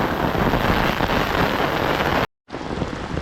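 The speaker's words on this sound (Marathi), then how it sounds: "वारा आणि पाऊस दोन्ही होता म्हणून जोरात होता" Loud, steady rain roars with wind buffeting the microphone, cutting to silence briefly before the downpour resumes.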